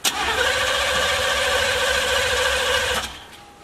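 A Chevrolet Caprice box Chevy engine cranks and catches, running with a steady mid-pitched whine for about three seconds before cutting off; close and loud, no voices.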